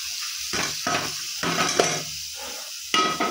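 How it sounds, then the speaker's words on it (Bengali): Vegetables frying in a pan after the water has cooked off, stirred with a spatula, giving loud bursts of sizzling and scraping in an uneven rhythm, close and alone. "এবার ভালো করে নেড়ে নেব।"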